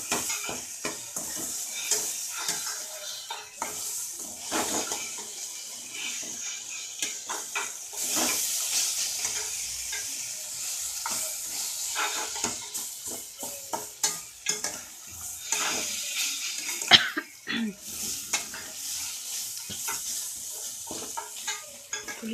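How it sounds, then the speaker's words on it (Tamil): Tamarind and mint are sautéed in a pan for chutney, with a continuous close sizzle broken by frequent scraping stirs and light clinks of a spoon against the pan. "புளி சேர்த்துட்டேன், நல்லா வதக்கிட்டேன்"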